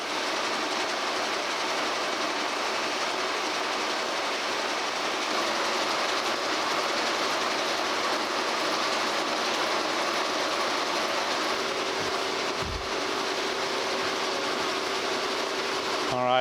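A machine cuts new slide keys for a Wadkin table saw fence, giving a loud, steady, even grinding hiss that runs unbroken throughout, with a brief low thump near the end.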